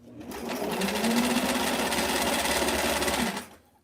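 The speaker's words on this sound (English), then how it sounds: "just to make sure that you're not sewing through more layers than you want to be sewing through" A sewing machine runs one continuous burst of rapid stitching for about three seconds while sewing a Barbie square dance dress, close and steady, then stops.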